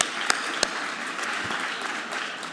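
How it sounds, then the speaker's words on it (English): Students at an evening speech night give a round of applause, a soft, distant spread of clapping with a couple of sharp louder claps standing out near the start. "Give yourselves a round of applause for coming out tonight."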